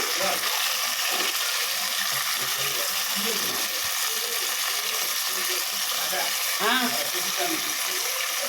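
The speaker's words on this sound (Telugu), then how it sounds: "ఫస్ట్ తాలింపులు వేసేస్తున్నాను తర్వాత అల్లవెల్లిపాయ పేస్టు" Hot oil sizzles and crackles steadily as tempering spices and curry leaves fry for sambar, with occasional clinks and a faint voice in the background.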